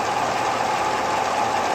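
A fully warmed-up engine, hot at oil operating temperature and fitted with Comp Cams Evolution lifters, idles steadily and loudly up close, a continuous even drone with faint rhythmic ticking and no speech.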